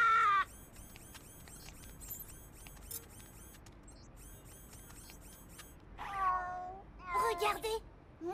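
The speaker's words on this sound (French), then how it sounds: "C'est juste un chat électronique, pas une invention pour gagner." An electronic toy cat meows twice near the end, loud and close, with a steady faint electronic hum underneath.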